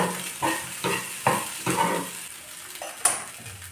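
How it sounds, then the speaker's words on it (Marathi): Sago pearls are stirred in hot ghee in a pan, a spoon scraping and turning them in regular strokes about every half second over a soft, steady sizzle, close and without talk. "त्याच्यात आता साबुदाणे टाकून घेऊ. आणि मस्त परतवून घ्यायचे."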